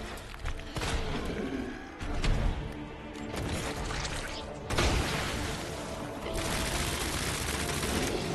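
Flashbang grenades and sharp combat bursts from the video game Resident Evil 2 go off in a chaotic sewer fight. Several loud booming blasts hit at intervals over a dense, noisy background.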